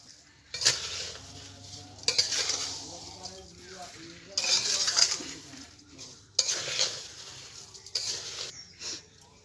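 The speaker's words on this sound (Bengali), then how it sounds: "এবার আমি কড়ার ভিতরে দিয়ে দেব এখানে আমি এক কিলো চিনি নিয়েছি চিনিটাকে এর সঙ্গে মিশিয়ে নেবো" A kilo of sugar being stirred into drained pumpkin in a wok for morabba: a spoon scrapes and clatters against the metal in about five separate bursts, with quieter gaps between them.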